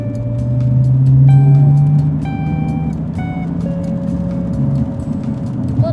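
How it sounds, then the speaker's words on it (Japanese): A Subaru WRX S4 sports car's exhaust revs up loudly, holding a rising droning tone before easing back to a lower steady rumble; no talking. "ちょっとだけそのマフラー音的なものを聞かせていただこうかしら。"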